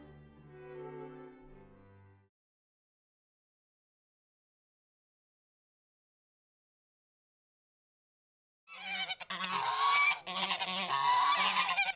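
Geese honking on the salmon-fishing delta, a short burst of calls at the start, then silence, then a louder, dense chorus of overlapping honks near the end.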